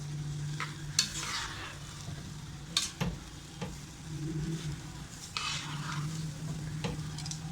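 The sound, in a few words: tossing rice with a spoon in a pan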